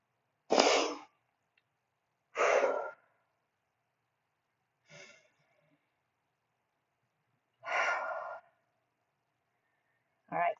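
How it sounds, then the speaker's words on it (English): Deep breaths during a yoga stretch, heard as four loud, close exhales spaced a couple of seconds apart with silence between, plus a brief fifth at the very end. "Let's get those 3 breaths."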